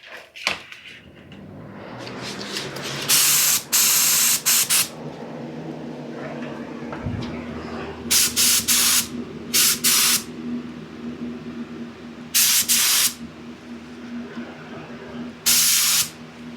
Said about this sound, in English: So now that's ready to go, and we are just about ready to spray.